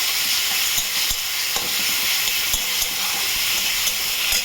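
Onions fry in a pan with a steady, loud sizzling hiss, broken by a few faint clicks and stirring scrapes.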